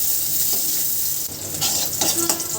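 Chopped onion and green chili frying in oil while being stirred in a pan: a steady loud sizzle with scraping spatula strokes and soft clinks growing busier toward the end.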